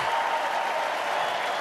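A large crowd applauds steadily at a Trump rally speech, a dense, even wash of clapping and crowd noise that holds at a constant level throughout without a break.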